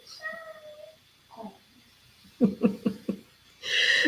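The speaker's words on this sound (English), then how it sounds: "The cat wants to come in." A cat outside on a rainy day meows to be let in during a meditation talk, several short meows followed by a quick series of close, insistent cries, with a burst of noise at the end.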